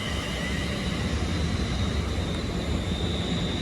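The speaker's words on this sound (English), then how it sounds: "here comes the 15:38 London Northwestern Rail service to Birmingham New Street via Northampton and Coventry" A London Northwestern Railway service arrives at Watford Junction, a steady low rumble of the train with a faint high whine, moderately distant and unbroken, with no voices.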